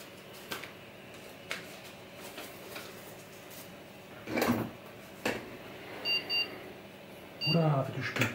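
Short electronic beeps from a Pentium motherboard computer at first power-on, a few brief high tones near the end amid faint clicks and background noise.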